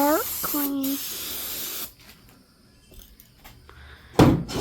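Several short bursts of aerosol brake cleaner hiss on a 1997 Ford F-250 Power Stroke diesel, with a longer sharp spray near the end; someone talks briefly at the start.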